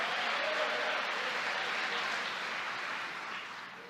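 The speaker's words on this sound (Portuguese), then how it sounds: "Se você crê nessa palavra, aplauda ao Senhor" Church congregation applauding after a preacher's prompt, a dense, even wash of clapping that holds strong and then slowly fades toward the end.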